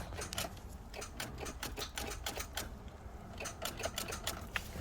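Rapid, irregular clicking from the starter of a 2014 Nissan Sentra with a starter problem, a close run of dry mechanical ticks repeating throughout, fairly quiet, with no talk.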